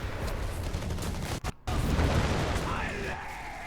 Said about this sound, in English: Captain there, just calling in some artillery.